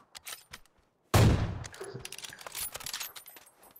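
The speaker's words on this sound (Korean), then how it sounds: "몇 명이서 한 놈을 쏘고 있는 거야?" Gunfire erupts in a PS5 battle royale game: a few faint distant shots, then a loud close burst followed by a scatter of rapid crackling shots and rattles.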